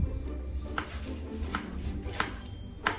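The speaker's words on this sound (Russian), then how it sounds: "И начинаем мелко-мелко нарезать их на небольшие кубики." A knife finely dices peeled, cored tomatoes into small cubes on a board for chili con carne. Four crisp chops land at a slow, even pace, close and clear, with no talking.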